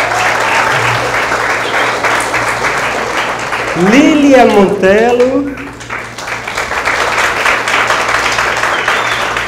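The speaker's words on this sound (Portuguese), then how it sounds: "Uma salva de palmas para ela." An audience at a lecture claps steadily and loudly throughout, while a speaker's voice announces a name over the applause midway.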